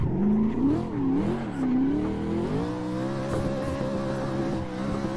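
A 1007hp VDC car in a racing video game revs loudly, its engine pitch sweeping up and down in rising and falling waves before settling into a steady high drone, with occasional tire noise.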